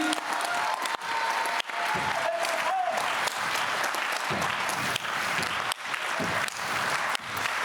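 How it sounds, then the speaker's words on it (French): An audience at an Auxerrois Olympic-themed New Year event applauds for Kefren, a sustained, loud crowd clapping throughout with a faint voice and brief tonal sounds underneath early on. "Avec Kefren, on l'applaudit, on l'applaudit."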